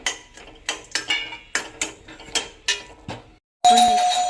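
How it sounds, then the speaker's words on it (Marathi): Cashews and almonds sautéed in ghee in a pan for vermicelli kheer: a run of rhythmic metallic clinks and scrapes of a spatula against the pan, then a short pause and a sudden loud, steady hiss. "काजू बदाम नाही छान असे परतून घेते"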